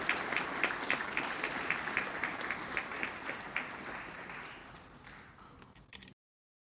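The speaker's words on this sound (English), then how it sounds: "A round of applause." Applause at a police awards ceremony, fairly distant and soft, many hands clapping steadily before thinning out and stopping abruptly.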